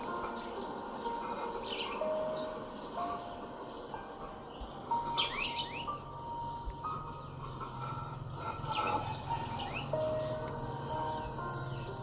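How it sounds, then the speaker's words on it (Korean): Small birds chirp outdoors near a traditional Korean terrace of earthenware jars on a cool day, with scattered high, brief tweets over a steady background hum. "날씨가 시원해서 그런지 새들도 더 많이 지저귀더라고요."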